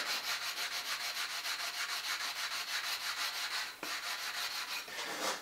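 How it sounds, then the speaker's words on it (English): Steady back-and-forth sawing through excess material while shaping a clay mold for a Bronze Age frying pan, a rhythmic rasping scrape repeating about four times a second, close and continuous, with one brief break in the stroke. "Now we're gonna use a sawing motion. And get this excess off of here."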